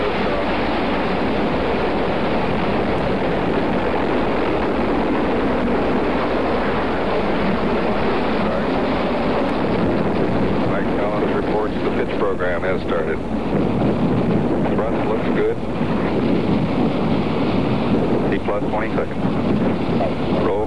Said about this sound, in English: Gemini 10 lifted from launch pad 19. 5, 4, 3, 2, 1, 0. Ignition